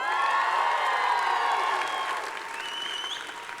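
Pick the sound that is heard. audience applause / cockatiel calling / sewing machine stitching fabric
audience applause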